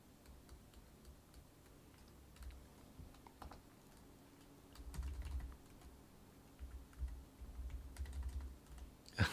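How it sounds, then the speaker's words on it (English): Typing on a computer keyboard during a live C++ coding session, with quiet, irregular key clicks in short bursts and a few louder taps, close by and faint, with no talking. "you can hear me typing"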